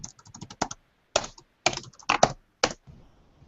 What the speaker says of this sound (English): Some aggressive typing over there.